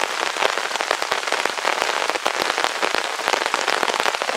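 Heavy rain pounds a tarp over a bushcraft bivouac in the woods at one in the morning, a loud, dense, continuous patter with close drops striking the sheet.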